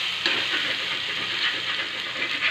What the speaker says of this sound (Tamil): சிம்மில் வச்சு நல்லா ஃப்ரை ஆகட்டுது